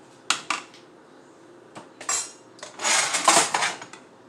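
A metal spoon clinks and scrapes inside a pot while pasta noodles are stirred and handled, a few sharp close knocks followed by a longer scraping clatter.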